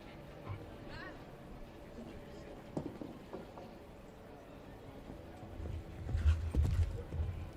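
Hooves of a horse, a 9-year-old gelding, clip-clopping around a show jumping arena at an adult championship, faint and irregular beneath a continuous crowd and venue hum, with a louder rumble near the end.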